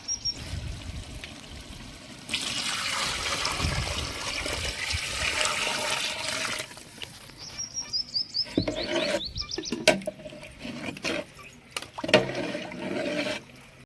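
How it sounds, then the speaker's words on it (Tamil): Water pours and splashes steadily into a pot of chicken biryani for several seconds, followed by clinks, clatters and short bursts of kitchen noise. "தேவையான அளவு தண்ணி ஊற்றிக்கலாம்."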